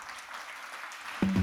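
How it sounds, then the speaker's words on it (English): A crowd at the Food Tech Challengers 2024 grand finale claps for a new-proteins track winner, a brief steady wash of applause before a low tone cuts in at the end. "Big applause to the winner."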